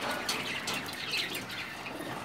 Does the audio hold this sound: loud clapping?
no